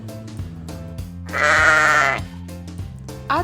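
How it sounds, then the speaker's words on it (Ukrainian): A single drawn-out sheep bleat, loud and wavering, with quieter low noise before and after. "Вівця бекає."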